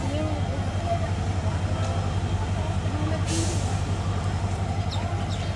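Korotoa Express train standing at Bamondanga station, giving a steady low rumbling hum with a few faint metallic squeals, and voices murmur in the background.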